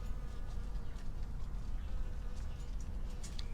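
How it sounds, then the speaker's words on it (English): Bees buzzing around plants in a backyard garden with strawberries, a continuous close insect hum with passing buzzes over faint outdoor background, no talking. "Look at all these bees."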